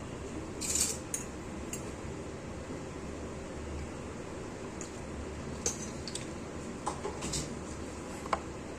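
A spoon scooping and scraping powdered milk, soft scratchy granular rustling with a few sharp metallic clinks against a container, near and quiet.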